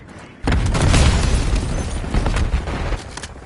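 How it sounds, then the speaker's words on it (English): A grenade explodes in Call of Duty Black Ops, a sudden heavy boom with a deep rumbling tail that fades slowly over a few seconds, loud and close. "Grenade incoming!"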